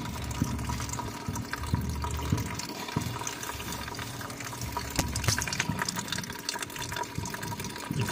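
Coolant from a 2016 Toyota Camry SE 2.5 drains into a bucket, a steady low trickle and splash running continuously at close range.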